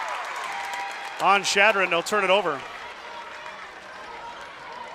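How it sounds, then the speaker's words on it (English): A crowd at a high school basketball game against Chadron cheers in a short loud burst of clapping and shouting, with a commentator talking over it. "The crowd is definitely getting into it now."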